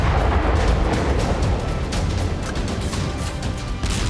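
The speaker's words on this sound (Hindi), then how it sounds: "तभी उस ट्रक पर एक रॉकेट आकर गिरता है और बड़ा धमाका होता है।" A rocket strikes a truck on a road beside two military vehicles, setting off a big explosion: a loud, sustained roaring blast with dense rumbling debris noise throughout, heard alone without talk.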